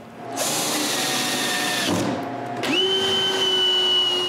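A power drill driving screws through strips into an oak cabinet: a loud, close motor whine running steadily, a brief stop, then a sharp spin-up to a higher steady pitch, no talk.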